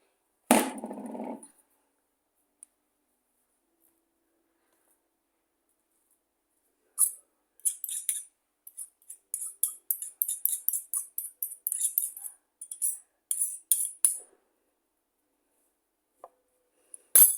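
Quark, sugar and egg are stirred together for pancakes, heard as a quick run of rhythmic scraping and tapping strokes against a bowl after a long quiet stretch, with a brief voice at the start.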